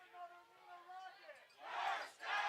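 High school football crowd at an Appleton North vs. Neenah game swells into a loud roar of cheering in the second half of the clip, after a stretch of announcer talk.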